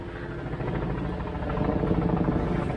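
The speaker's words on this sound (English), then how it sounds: "This helicopter is so annoying." A helicopter drones overhead in a steady, throbbing rotor hum that swells slightly, moderately loud and continuous with no voices.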